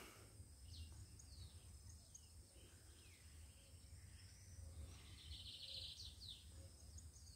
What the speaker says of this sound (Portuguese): Mostrando para vocês o sabiá.